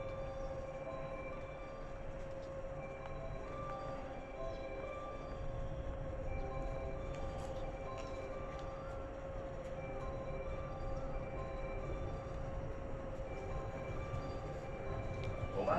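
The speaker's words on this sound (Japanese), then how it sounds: "4番乗り場から特急やくも3号出雲市行きが発車します。" Limited express Yakumo train departing Kurashiki station, a steady low rumble and hum of the moving train with faint squeals, continuous and moderately distant.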